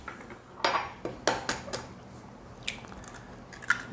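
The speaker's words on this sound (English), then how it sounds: "I'm going to add 4 eggs" Eggs cracked into walnut cake batter in a bowl give several sharp clinks against the rim, with light wet squishes, spaced irregularly and close by without talk.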